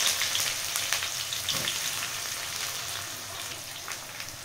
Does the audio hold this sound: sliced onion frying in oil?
yes